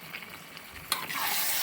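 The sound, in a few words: stirring pork curry frying in a pan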